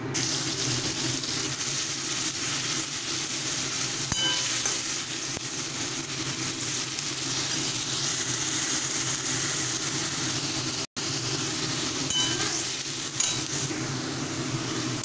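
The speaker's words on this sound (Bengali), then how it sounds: "এবারে বাকি তেলটার মধ্যে আমি এক এক করে পেঁয়াজ বাটাটা দিয়ে দেবো" Onion paste fries in hot oil in a pan and is stirred now and then, giving a continuous close sizzle with a faint scraping stroke or two and no voices.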